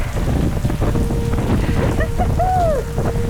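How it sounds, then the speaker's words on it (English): Rain mixed with sleet blowing in off the ocean on an Irish road trip gives a loud, steady hiss and patter with wind-driven roar, while faint whistling tones pass through. "I don't know if you guys can see the rain coming in off the ocean."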